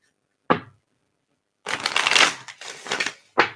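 Playing cards are shuffled up close: a quick snap, then a longer riffling burst and a second riffle, ending with another sharp snap.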